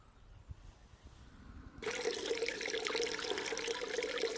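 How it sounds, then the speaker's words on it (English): A garden lion water feature starts up, a steady splashing trickle of water falling into a basin that begins suddenly and runs on evenly, close by after a quiet outdoor lead-in. "I managed to get my lion water feature working again."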